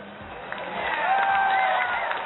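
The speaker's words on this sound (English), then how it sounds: "The crowd went wild." A crowd cheers at a robot competition where machines drive, turn valves, drill walls and climb stairs. A muffled roar of voices swells and holds, with a few higher shouts carrying through the din.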